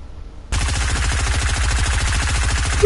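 Sustained rapid automatic gunfire in a squad shooter video game erupts suddenly after a quiet moment and continues as a dense, loud, rhythmic burst of shots without pause.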